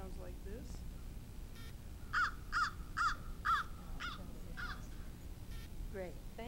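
A crow's recorded call plays: a run of four clear, evenly spaced caws in the middle, surrounded by fainter scattered calls. A voice speaks briefly at the start.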